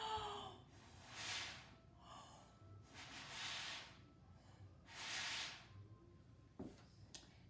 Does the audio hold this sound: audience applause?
no